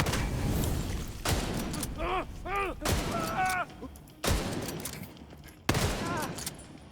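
Turret gunfire erupts in a shooter video game in several loud automatic bursts separated by short gaps, with a person talking between and under the shots.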